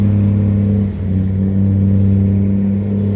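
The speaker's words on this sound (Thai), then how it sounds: "เสียงของเครื่องยนต์กระหึ่มนะครับ" Tugboat engine roaring steadily while towing a cargo barge upstream against a flood current on a river at dusk, a loud, sustained deep harmonic drone with no talk.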